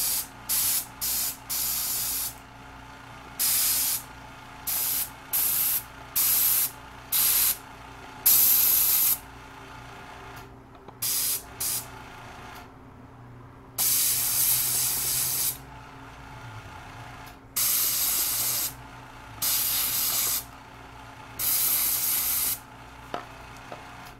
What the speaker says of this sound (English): So I'm going to put the airbrush really tight in there.